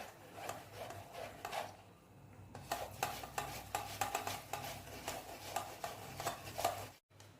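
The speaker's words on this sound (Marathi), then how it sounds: "हे सर्व बटाटे व्यवस्थित किसून घ्यायचे आहेत" Raw potatoes for sabudana potato papad are rubbed against a metal grater in a kitchen, making a rhythmic scraping rasp with steady repeated strokes and a short pause partway through.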